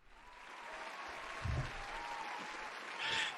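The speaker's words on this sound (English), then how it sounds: "You guys want to give him a round of applause?" Light, fairly faint applause from a small crowd, with a brief swell of clapping partway through.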